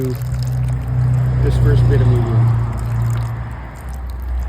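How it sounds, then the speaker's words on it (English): Water pours gently onto potting medium for fig cuttings, a soft trickle running under a man's close speech for most of the stretch. "go ahead and give a little bit of water to"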